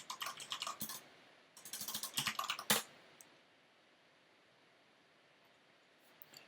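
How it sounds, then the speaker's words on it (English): Rapid keystrokes on a Corsair K95 RGB mechanical keyboard with Cherry MX Red switches, heard in two close bursts of clattering typing that stop abruptly, followed by quiet room tone. "That's Corsair K95, I think. Cherry Reds."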